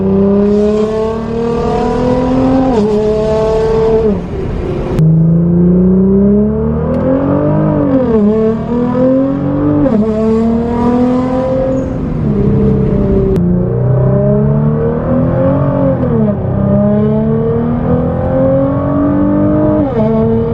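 A Nissan GT-R R35 with a Fi exhaust and VR38 engine accelerates and revs repeatedly, loud and close, with sweeping gear-by-gear rises and sharp shifts between pulls.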